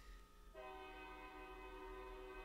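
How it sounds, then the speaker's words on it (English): A passing train's horn blows a sustained, steady chord from the second half-second onward over a low rumble. It sounds faint and distant, with no talking. "Midnight train coming by, man"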